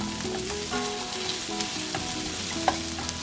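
Salmon, prawns and broccoli cook gently in a pan over a low flame, a soft continuous sizzle and bubbling that stays steady with only small crackles and no voices.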